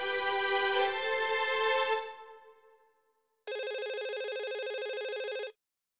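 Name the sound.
telephone ringing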